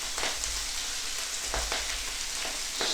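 Swiss chard, stems and all, sizzling in a hot pan with garlic: a loud, close, steady frying hiss with faint crackles and pops and no voices.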